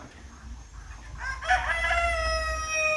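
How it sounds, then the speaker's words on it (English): A rooster crows once, clear and fairly close, beginning faintly and then swelling into a full cock-a-doodle-doo in a backyard chicken run crowded with young roosters, with a low hum underneath. "who is currently housed with way too many little roosters right now"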